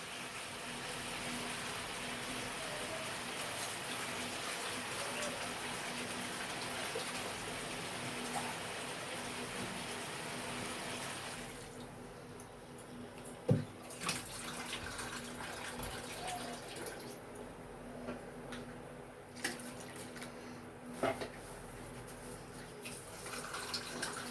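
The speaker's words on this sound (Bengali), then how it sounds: "এবারে এতে জল দিয়ে দেব।" Water pours into a pot of chicken stew with whole onions, a steady gushing splash for about twelve seconds, then quieter trickles and a few clinks and knocks.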